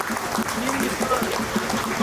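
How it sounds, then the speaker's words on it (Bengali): Applause for two women at a Maha Navami cultural program, a steady crowd clapping that fills the short moment with voices mixed in underneath. "জোরে একবার আমাদের এই দুই দিদির জন্য জোরে হাত তালি।"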